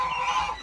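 Pompom ducks on a farm give a single short, nasal honking call, close by and fairly clear, with no talking.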